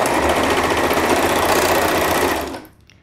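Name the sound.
sewing machine stitching elastic closed on pajamas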